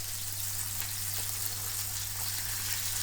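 The side of a lump of meat, tied with string for roasting, sears in a hot pan. A steady, even sizzle hisses throughout with a low electrical hum beneath, and no talking.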